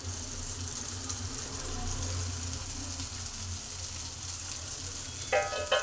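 Onion, garlic, curry leaves, tomato and dill leaves fry in a little oil with a steady, close sizzle, ending in a brief clatter near the end. No one speaks.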